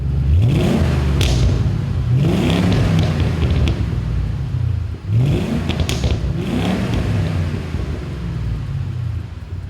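A 2005 Ford Mustang with an MBRP aluminized 2-1/2 inch axle-back exhaust revs repeatedly, with four loud rising and falling throttle blips over a deep, close, rumbling idle.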